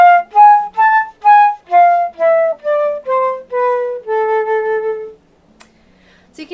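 A flute plays a descending harmonic minor scale, about a dozen clear, sustained notes stepping downward in a steady rhythm, played solo and close, then fading into near silence.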